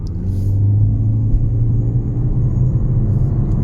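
A 2023 Toyota C-HR 1.8 Hybrid accelerates at full throttle, with a deep steady engine drone and road rumble heard from inside the cabin, loud and continuous with no voices.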